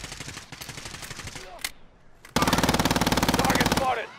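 Gunfire in Call of Duty Warzone on Rebirth Island: scattered shots and game voice callouts first, then a loud rapid burst of automatic fire lasting over a second.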